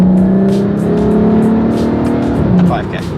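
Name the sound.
VW Passat with aftermarket exhaust revving through a 3rd gear pull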